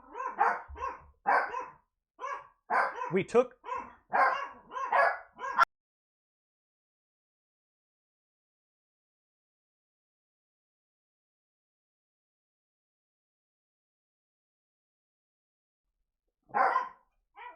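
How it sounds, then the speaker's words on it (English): Dogs barking excitedly after a knock at the door, a rapid run of close, sharp barks and yips over the first six seconds, then silence, with one more short burst of barking near the end; a voice speaks briefly. "the door knocks and then the dogs go crazy"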